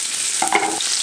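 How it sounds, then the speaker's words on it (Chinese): Scallion and garlic hit hot oil in a wok for a stir-fry, giving a brief burst of sizzling that swells abruptly and cuts off within half a second against a steady background hiss. "我们来烧油开始炒"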